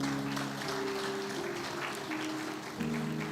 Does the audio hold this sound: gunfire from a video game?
no